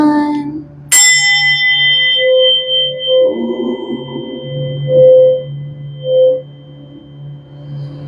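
A single bell struck to open a stretching class rings out with a bright, sharp strike and a long shimmering decay, while a low steady hum and soft background tones continue underneath.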